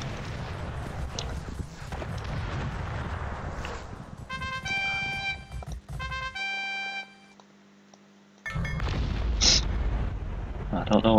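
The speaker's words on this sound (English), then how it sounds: "Oh, they're shooting at me." Battle sounds from the strategy game Cossacks: Back to War: enemy troops open fire in repeated booms and crackling shots, mixed with hoofbeats and a bright chiming jingle partway through, then heavy dense gunfire returning loud at the end.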